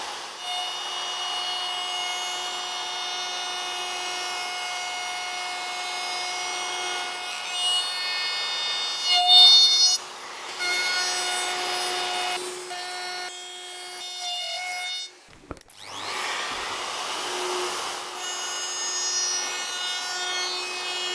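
Bearing-guided cutter trimming melamine edge banding in a woodworking shop, a steady high whining, rasping cut running throughout with brief pauses and a sharp knock midway.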